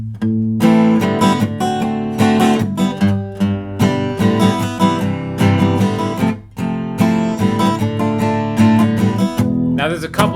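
Acoustic-style guitar playing a song, with strummed chords and picked notes in a steady rhythm, close and clear with no talking.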